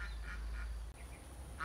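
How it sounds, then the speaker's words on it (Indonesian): Ducks quack in a rice field, a few short nasal calls in loose succession at moderate distance over a steady low outdoor rumble. "Ada bebek"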